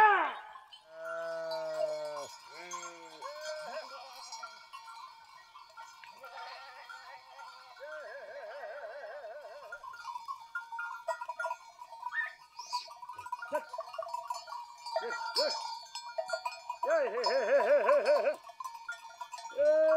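Goats bleating repeatedly on a livestock farm in winter, wavering calls near and farther off, with bells clinking faintly among them.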